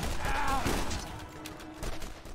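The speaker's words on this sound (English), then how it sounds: "I want to try this gun out. See how it works for me." Gunfire from a gun in the PC game Borderlands: Game of the Year Enhanced, a rapid burst of shots mixed with game effects and rumbling, moderately loud with no talking.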